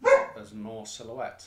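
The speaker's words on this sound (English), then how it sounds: "I apologise for the dog." A dog barks a few times close by, the yips mixed in with someone talking over them.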